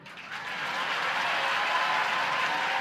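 Dense, steady audience applause rises and holds for the winner of a dance competition at the Utsav 2015 cultural programme, Dev Sanskriti Vishwavidyalaya, Haridwar. It is a broad wash of many hands with no talking.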